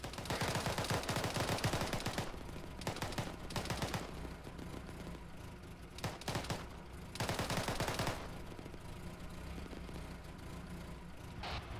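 Automatic gunfire in the Arma military simulation sounds in repeated loud bursts of rapid shots, with short gaps between volleys over a steady vehicle-engine rumble, and no voices.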